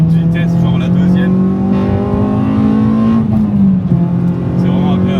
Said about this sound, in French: quand tu actives le VTEC dans des petites vitesses, genre la deuxième